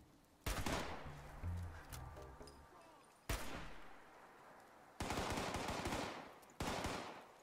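Automatic gunfire in the online shooter game Fallout 76, arriving in four loud, dense bursts of rapid shots separated by short gaps, with faint speech in the background.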